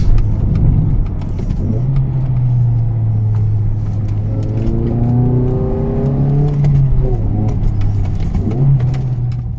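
A car engine idling up close, a steady low hum that rises slightly in pitch and settles again as the revs shift, continuing at an even level.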